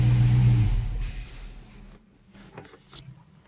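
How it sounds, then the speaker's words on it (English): A Dodge Charger 392 V8 idles with a deep, loud rumble, then shuts off abruptly after about half a second, leaving a quiet tail of faint clicks and ticks close by. "I'm gonna go ahead and turn the car off."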